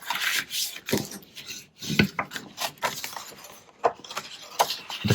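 Paper score lines on cardstock for a faceted box are burnished with a tool, close dry rubbing strokes in short uneven bursts with scraping pauses.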